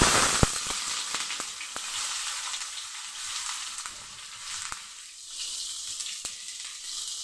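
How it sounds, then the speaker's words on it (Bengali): Onions frying in a pan of hot oil with cardamom, cinnamon and bay leaf, a soft steady sizzle with occasional sharp pops and stirring clicks, close but fairly quiet, no speech. "পেঁয়াজটা একটু ভাজা করে নেব।"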